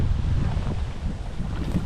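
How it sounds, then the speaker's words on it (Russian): Strong wind gusting on a lake in wild Karelia, a loud, steady roaring rush buffeting the microphone with a low rumble throughout, no voices. "Ветер, как видите, сильный."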